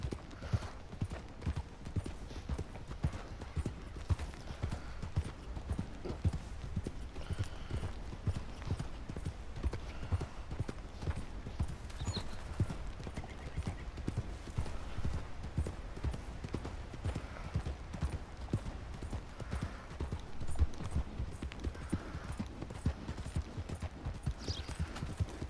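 Horse hooves clip-clopping steadily in Red Dead Redemption 2, a continuous brisk rhythmic trot throughout, close and clear, with only faint background game ambience.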